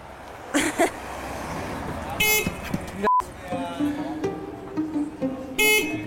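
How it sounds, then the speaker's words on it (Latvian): A car horn honks a few short times in a camper van setting, with broken bursts and tonal blasts over background noise and nearby talk. "Taure."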